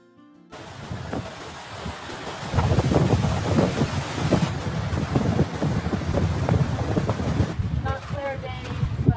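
Cold wind gusting across a mountain trail on an Everest trek high in the clouds, a steady broadband roar with rumbling buffets against the microphone that swells after the first couple of seconds and persists throughout.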